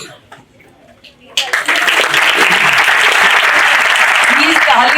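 Applause from a science fest audience welcoming honored guests: a quiet stretch with faint voices gives way to sudden, loud, steady clapping that continues to the end.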